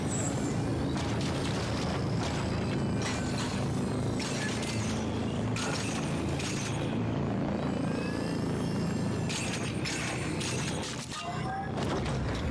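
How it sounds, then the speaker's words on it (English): A small drone in a sci-fi video game, The Ascent, flying amid game audio: a steady mechanical whir under dense bursts of effects, loud and continuous throughout. "So I do like my little drone."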